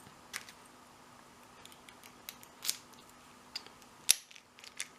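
A key works an Abus 40mm My Sport brass padlock, giving scattered faint metallic clicks and ticks with one sharper snap near the end, close up and without talking.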